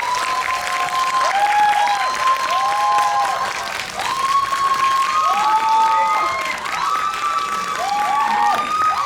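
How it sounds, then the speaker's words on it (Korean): Applause from an audience at a film Q&A screening event, sustained clapping filling the hall with cheering mixed in, with a voice speaking over it. "큰 박수 부탁드립니다"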